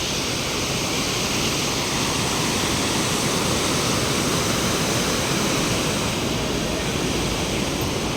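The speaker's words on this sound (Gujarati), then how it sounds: "તમે જોઈ શકો છો નીચેના પુલના અડીને છેક પાણી જઈ રહ્યું છે" A flooded Harnav river rushes beneath a bridge at night, a dense, loud, unbroken roar of churning water that holds steady throughout.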